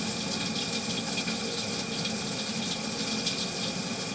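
Water runs out the end of a pipe, roughly 1 inch and wide open, in a steady continuous gush and splash that stays close and loud the whole time, with no talking over it.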